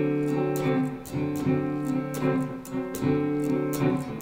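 Electric blues guitar strumming a D seventh chord, repeated rhythmic strokes at a steady pulse, clear and close with no talking.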